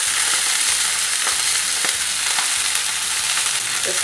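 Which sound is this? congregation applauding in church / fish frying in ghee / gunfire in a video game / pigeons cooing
fish frying in ghee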